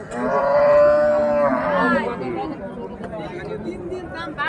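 At a rural cattle market at Raniganj haat in Ghoraghat, a cow gives one long, clear moo near the start, with people chattering in the background throughout.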